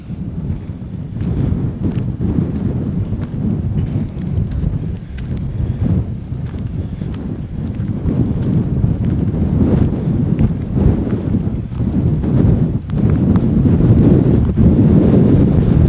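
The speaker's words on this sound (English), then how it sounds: "Wind's blowing a good one today. Hopefully it's not interfering too much with the microphone." Strong wind buffeting a microphone fitted with a furry windshield at Kimmeridge Bay in Purbeck, a loud continuous low roar that swells and rumbles for the whole stretch, with no voices.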